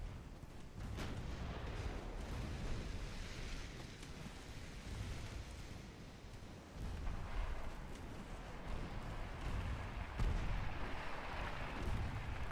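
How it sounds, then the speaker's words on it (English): Two-inch Mark II naval guns fire high-velocity shells in Ultimate Admiral: Dreadnoughts, as faint distant thuds over a continuous rumble of wind and sea. "These are all firing 2-inch shells"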